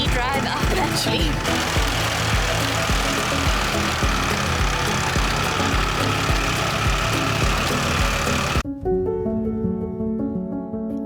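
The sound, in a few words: vehicle engine driving up a steep road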